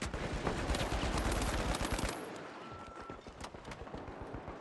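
Rapid automatic turret fire in the first-person shooter The Finals, a dense, fast stream of shots for about two seconds, then quieter scattered gunfire and impacts.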